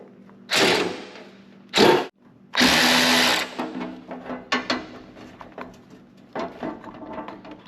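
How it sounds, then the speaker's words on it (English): Power drill spinning out cowling bolts on a lawn mower: three loud whirring bursts, the last one longer, followed by quieter clinks and handling noises. "I'm going to take these 6 bolts out and take this cowling off"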